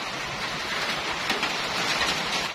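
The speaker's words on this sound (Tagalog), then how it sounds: "so umuulan na." Steady rain falls on a goat farm in the late afternoon, a dense even hiss that holds at one level from start to finish with no talk.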